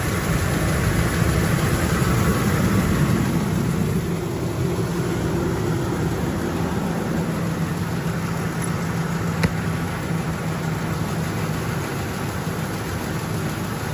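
A 2000-2003 Ford F150 with a 4.6L or 5.4L V8 idles steadily after an oil and filter change, a continuous low rumble held at an even level throughout, with a brief faint tick near the end.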